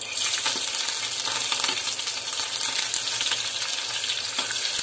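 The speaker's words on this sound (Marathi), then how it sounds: "राई झाल्यानंतर मिरची टाकूया आणि कढीपत्ता।" Chillies and curry leaves fry in hot oil with popped mustard seeds, giving a steady, close, bright sizzle with faint crackles and a few light stirring clinks, no voices.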